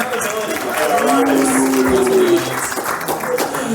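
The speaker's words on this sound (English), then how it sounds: "round of applause for accountability" Applause from the audience at a live comedy show, a crowd clapping and cheering loudly for several seconds, with voices and shouts mixed into the dense clapping.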